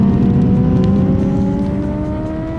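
A 2024 Honda CBR600RR sport motorcycle on a wet race track gives a loud, steady engine howl whose pitch climbs gradually as it revs, continuous and close with no voices.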